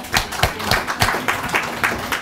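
Studio audience clapping, a steady run of sharp, fairly close hand claps with a loose, uneven rhythm throughout, no voices over it.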